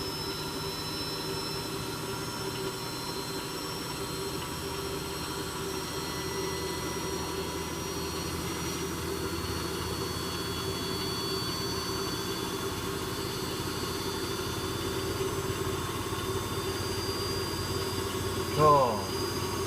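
Electrolux W455H commercial washing machine spinning at high speed on a synthetic cycle, a loud steady whine and rumble holding throughout with a slight rise near the end.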